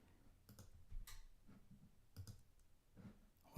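A computer mouse gives a few faint, sparse clicks in a quiet room, spaced irregularly with soft background hiss and no talking.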